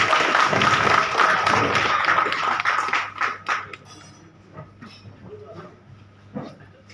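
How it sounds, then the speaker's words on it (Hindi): Applause greets a former joint managing director at a gathering, with loud clapping at first that thins into scattered claps, while voices murmur underneath. "तालियों से स्वागत करते हैं"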